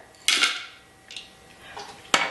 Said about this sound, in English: I'm going to drop those in the food processor.